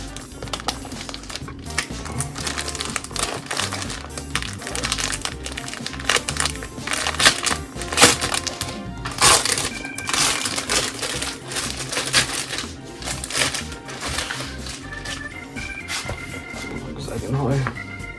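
Pokémon card gift box packaging, an Eevee GX Chinese gift box, being unpacked up close, with steady crinkling and crushing of plastic and cardboard throughout while a person talks over it.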